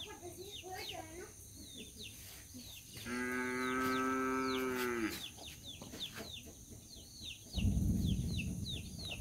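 Cows moo on a farm in the countryside: one long, loud, harmonic moo rings out clearly in the middle, amid background bird calls and some low rumbling near the end.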